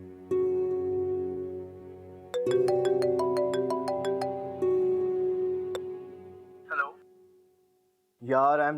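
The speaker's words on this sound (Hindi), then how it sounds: "यूसुफ, प्लीज फोन उठाओ" A phone ringtone plays a stepped electronic melody of rising tones over steady background hum, followed by brief bursts of voices.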